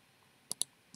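A computer mouse clicks sharply twice in quick succession, followed by two fainter clicks, close and isolated in a quiet room during desktop GIS work.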